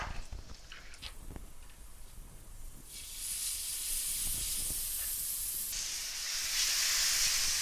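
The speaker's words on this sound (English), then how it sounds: "I'm going to just lower the heat to a medium-low because this is a hot pan. Now let's get our steaks on." Steaks sizzle in a hot pan set to medium-low heat, starting with a few faint clunks and crackles before a steady, hissing spatter swells and holds, growing brighter toward the end.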